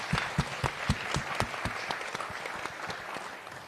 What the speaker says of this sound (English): A round of applause for the last one as well, please.